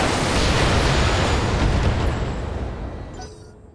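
Mech weapons fire and slam into a target in BattleTech: a loud, dense barrage of blasts and rumbling impacts that roars steadily, then fades away over the last second.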